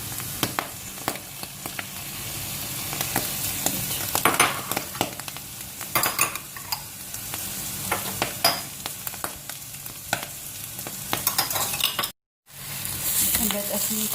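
Tomato paste being stirred into pasta sauce in a pan, with a steady sizzle of frying and repeated scraping and clinking strokes of a utensil throughout, briefly cutting out near the end.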